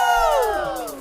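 Church congregation cheering together in a loud burst of shouting and whooping voices that swells, then fades over about a second, close by and without any separate speech.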